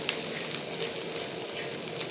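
Aku fish sizzling and crackling steadily in a pan in its own natural oil with no added oil, a soft continuous frying hiss with small pops throughout.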